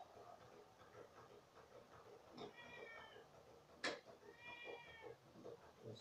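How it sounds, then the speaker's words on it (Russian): Indoors, a cat gives two drawn-out meows a second or so apart, faint and close over a low background hum, with a sharp knock between them. "Кошка, не ори."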